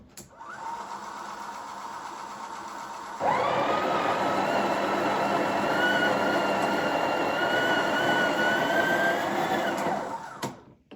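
A Breville Oracle Touch BES990 espresso machine's built-in grinder purges coffee. A steady whirring grind starts after a few seconds of lower motor hum, runs loud and even for about seven seconds, then cuts off.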